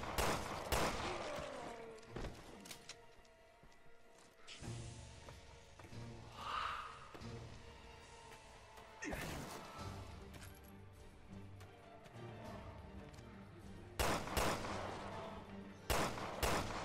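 Gunfire in Resident Evil Revelations 2 Raid mode comes as loud sharp bursts at the start and again in the middle and near the end, with quieter game ambience and breathy sounds in between.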